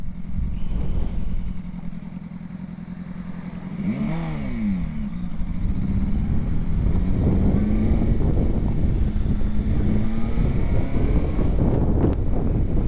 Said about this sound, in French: je mets la première et je vais à fond pour voir un peu quelle vitesse de pointe elle prend